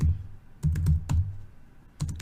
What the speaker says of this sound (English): then you type in add attachment